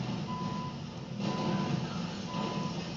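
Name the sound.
truck reversing beeps in video game GTA Online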